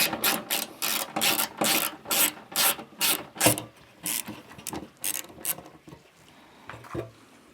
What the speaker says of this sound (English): Just going to undo our fender bolt just here.